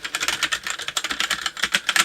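Rapid clicky typing on a Roccat Suora mechanical keyboard, its noisy keys ringing with a springy resonance, a close, dense run of keystrokes with no talking.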